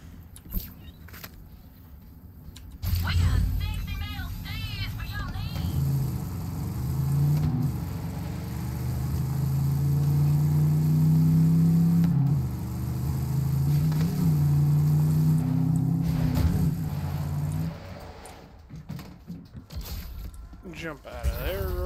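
A vehicle engine drones and revs in the game Borderlands, a low steady motor hum that swells while driving and fades near the end, with brief mechanical clicks at the start.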